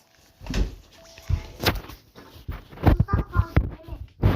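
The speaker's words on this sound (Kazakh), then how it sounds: "есік жауып ашып жатырмыз" A door being opened and closed indoors, a series of knocks and bangs with sharp latch clicks, loud and close, with people speaking in between.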